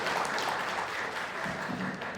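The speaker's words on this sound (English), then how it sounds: "let's give them a big round of applause, everyone" A crowd applauding at a film press meet in Bengaluru, a continuous soft blur of many hands clapping at moderate distance, steady and even throughout.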